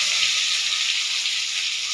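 Steady, loud sizzling of onion dropped into hot oil with frying potatoes and prawns for a rohu fish curry, a continuous bright hiss without pause, close up and with no talking.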